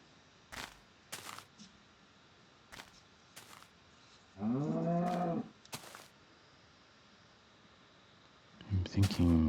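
Minecraft cows moo twice, a loud low drawn-out call in the middle and another near the end, amid sharp clicking game sounds and quiet background.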